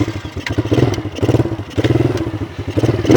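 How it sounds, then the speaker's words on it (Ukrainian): Small children's quad bike engine starting and settling into a pulsing, uneven idle, close by with rhythmic thumps and a slight clatter. "Дивіться, заводимо квадроциклик."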